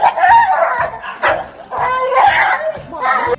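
An excited dog whimpers, yips and barks in a close, loud run of cries while reuniting with its owner after years apart, the whines rising and falling in quick bursts with little pause.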